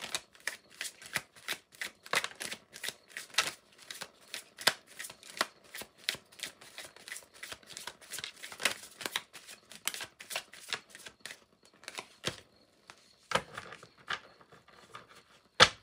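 A deck of tarot cards is shuffled by hand, a long run of quick, crisp riffling flicks and slaps in uneven bursts, close and fairly quiet, with no talking over it.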